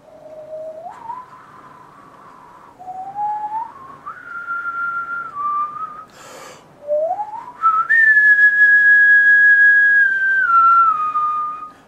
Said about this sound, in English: have them whistle